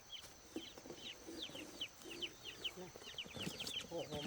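Newly bought hens and a large hen close to laying cluck repeatedly in short, scattered calls, fairly near and moderately loud, with faint background noise and no talk.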